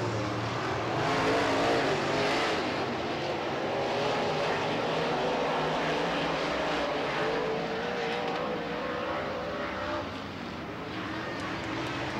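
Race cars lapping Red River Coop Speedway on a Thursday night, a dense continuous roar of several engines bunched close together through a turn, loud and sustained with a slight easing near the end.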